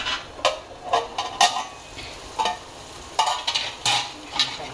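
Parwal (pointed gourd) seeds frying and being stirred in a pan, with intermittent spatula scrapes and soft sizzling in short bursts, close and moderately quiet.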